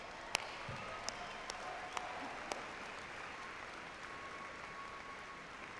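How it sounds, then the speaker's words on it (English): At a 2015 Opus College of Business commencement ceremony, an audience applauds in a steady, faint, distant wash of clapping, with a few sharper isolated claps standing out early on. "The first of many opportunities for applause"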